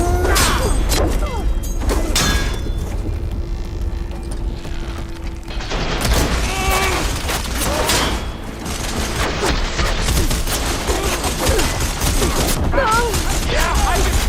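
Gunfire in the Horizon Forbidden West video game: rapid bursts of shots and mechanical clatter, loud and dense throughout, mixed with voices and bangs.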